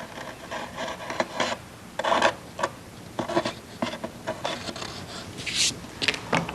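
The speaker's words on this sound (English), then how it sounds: "finally trim off the overhang here on the other side." Blade trimming excess MonoKote covering film overhang on a model aircraft gives short, quiet scratchy cuts and rubs in irregular bursts, close by with no talking.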